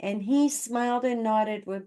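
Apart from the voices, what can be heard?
No everyday noises stand out.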